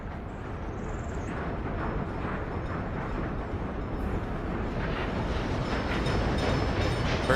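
A coal train running along a railroad in Workers and Resources, a steady rolling rumble of wagons that swells slightly louder toward the end, with no voices over it.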